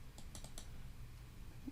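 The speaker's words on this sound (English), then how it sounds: "typing a number and hitting enter." Faint computer keyboard typing: a quick burst of four or five light key clicks entering a number, then a pause and a final soft tap of the enter key.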